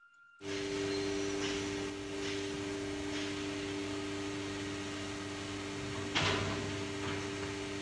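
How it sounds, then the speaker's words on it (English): A CNC router and a printer run at the same time in a nested-based manufacturing shop, giving a steady broadband machine hum with a constant drone, faint periodic swishes and one brief louder burst partway through, with no talk. "Here you'll get to see the, the printer and the router operating simultaneously."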